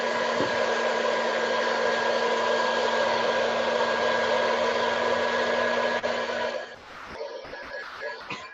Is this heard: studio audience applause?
no